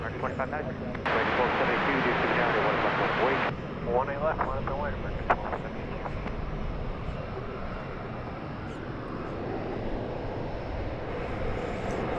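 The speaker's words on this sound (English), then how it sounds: "We are about to see American Flight 2593 going to Minneapolis, St. Paul." An American Airlines jet airliner, Flight 2593 bound for Minneapolis–St. Paul, roars past at DFW Airport with a loud, sustained engine rumble that swells and then fades. A voice talks over it.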